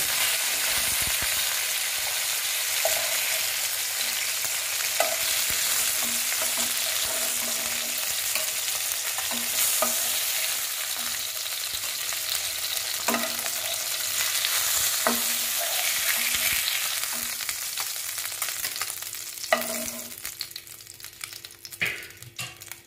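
Katla fish pieces frying in a small amount of oil, a loud continuous sizzle with scattered crackles and light utensil knocks, easing off slightly toward the end.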